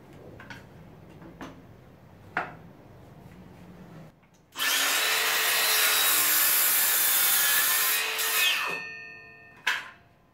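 A saw cuts wooden pegboard pieces square on a jig: a few faint taps, then a loud, steady close-up cutting burst of about four seconds that winds down, followed by one sharp knock.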